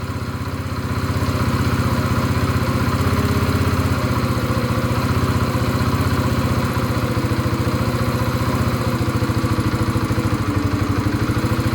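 A motorcycle engine idles steadily nearby with a low, even throb that holds constant for the whole stretch, with no voices over it.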